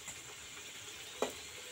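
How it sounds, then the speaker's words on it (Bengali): Singara frying in hot oil, a soft steady sizzle with a single brief louder crackle near the end, close but faint. "বন্ধুরা সিঙ্গারা কিন্তু তিন দিকে ভাজা লাগে"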